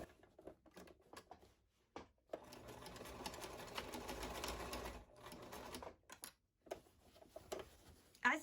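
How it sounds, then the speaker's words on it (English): Sewing machine back-stitching along the seam of garden pouf fabric, a steady mechanical whir running for about three seconds between short bursts and pauses, with faint speech in the quieter stretches. "I'm going to start sewing on one end, back stitching, and continuing all the way to the other end and back stitching."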